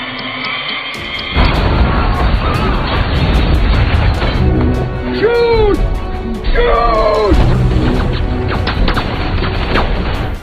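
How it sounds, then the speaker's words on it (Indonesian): A bomb detonates in the 2022 superhero film Samaritan, a sudden heavy boom about a second in followed by a sustained roaring rumble, with voices heard over the aftermath. "bom yang Cyrus tanam pun meledak"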